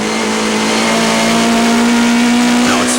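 A 1998 Bankfin touring car runs flat out down the Killarney straight, its engine holding a loud, steady high drone that sounds close and alone.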